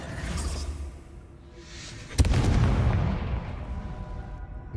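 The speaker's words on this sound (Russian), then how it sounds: "ты что там взрываешь?" A single loud explosion bursts from the Hogwarts Legacy video game about halfway through, with a sharp crack and a booming rumble that fades slowly after a quieter lead-in.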